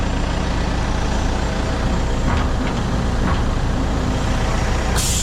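A truck delivering flowable fill pulls up at a construction site with a loud, continuous engine rumble close by and a brief sharp hiss near the end.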